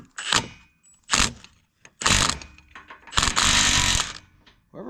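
A hand ratchet works a bolt loose on a John Deere 8820 combine in short bursts of rapid metallic clicking, four separate runs with pauses between, the last one longest, close and clear.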